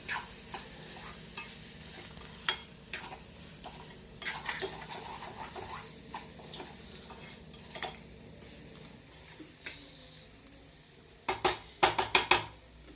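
Egg curry gets stirred in a pan with a spoon: soft sizzling runs under irregular scrapes and metallic clinks, ending in a quick flurry of sharper taps, close up and with no talking.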